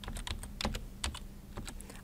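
Rapid typing on a computer keyboard while a search term is entered, a steady run of close, crisp key clicks with a few heavier strokes, alone without speech.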